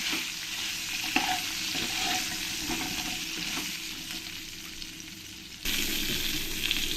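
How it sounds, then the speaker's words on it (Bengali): Pointed gourd pieces sizzle in a pan with turmeric and salt while being stirred, a continuous close frying hiss with soft scraping movements and a louder burst near the end. "ভালো করে আমি নেড়ে দেব নেড়ে দিয়ে পটলগুলোকে আমি ভালো করে ভেজে নেব"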